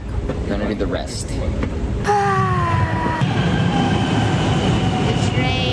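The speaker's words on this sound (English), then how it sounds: "The train is coming." A train pulls into a station in Melbourne with a rising rumble and high metallic squeals of wheels on rails, loud and close throughout.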